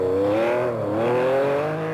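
A Porsche four-wheel-drive rally car fitted with adjustable Bilstein shock absorbers drives through desert over dirt and gravel, its engine a steady, loud drone that rises and falls slightly in pitch throughout.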